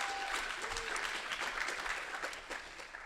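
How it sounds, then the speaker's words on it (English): Audience applause fills a hall at Lawrence Livermore National Lab's annual Research SLAM, a dense, steady clatter of many hands clapping that holds throughout, moderately loud with no voices standing out. "That is an applause line."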